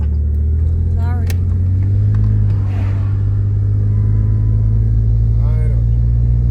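A motorcycle sits idling outdoors on a hot day in Maine after being revved hard. Its steady, loud, low rumble continues unbroken, with a few faint higher chirps over it.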